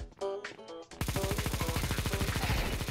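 Rapid automatic gunfire in Counter-Strike 2, a loud, fast, evenly spaced burst of shots that starts after a short stretch of other game sounds and runs steadily to the end.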